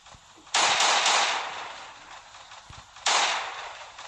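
Gunfire in the video game Last Day On Earth: two sharp bursts, the first a rapid rattle of several shots, the second a single loud blast, each ringing out and decaying over a faint background.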